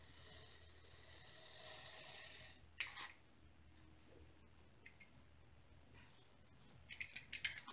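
Scissors cutting out a small diamond painting label, giving a few faint close snips and clicks, with a louder cluster of snips near the end in an otherwise quiet room.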